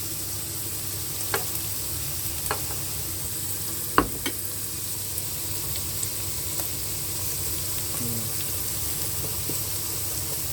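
Garlic frying in hot cooking oil for spaghetti sauce, a steady close sizzle throughout with a few light clinks of a stirring utensil.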